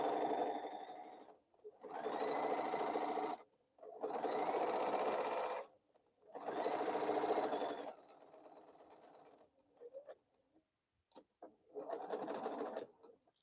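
A sewing machine stitches in four loud, steady runs of a few seconds each, separated by pauses, then stutters in short bursts before a final run, backstitching while making bowl cozies.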